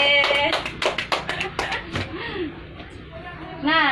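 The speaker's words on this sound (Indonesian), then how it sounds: "Tepuk tangan dong." A group of children clap their hands in a classroom, a quick burst of scattered claps that fades out as a teacher talks over them.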